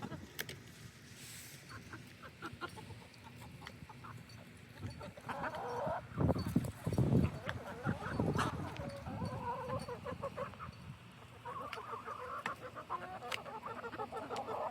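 Several hens cluck and murmur close by while feeding from plates, with louder bursts of squawking in the middle and steady soft clucking throughout.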